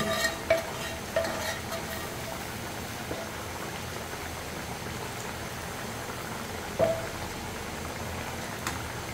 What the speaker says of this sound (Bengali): এখন আমি আরো একটু নাড়াচাড়া করে দেব মাছগুলো দেওয়ার পরে